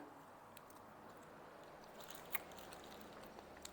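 Someone quietly bites and chews crunchy honey-baked dried banana. The chewing is soft, with one sharper crunch partway through, close to the ear.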